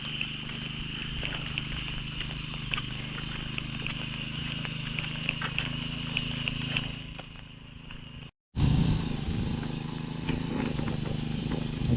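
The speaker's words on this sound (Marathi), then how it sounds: "इकडे ट्रॅक्टरने नांगरतात." A tractor ploughs a field in Konkan at the start of the rainy season. Its engine drones steadily and continuously, the sound briefly dropping out before returning louder and closer.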